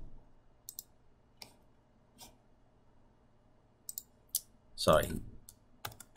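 A password is typed on a computer keyboard as a few quiet, scattered key clicks with long gaps, plus one louder burst of clicking near the end and a brief spoken word.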